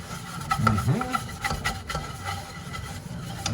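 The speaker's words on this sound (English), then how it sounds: "could give it a little scrub" A cooking pot is scrubbed with dish soap in a sink, giving close, uneven scraping and rubbing strokes, with a voice briefly heard in the background.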